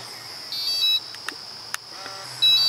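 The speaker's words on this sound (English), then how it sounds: "You hear a confirmation beep." Two short electronic beeps from an RVLock wireless remote confirming programming, one near the start and one at the end, with faint clicks between them in a quiet room.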